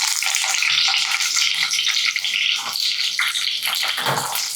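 Green chillies fry in hot oil with a loud, bright, continuous sizzle and spatter, close up and steady throughout, with no talking.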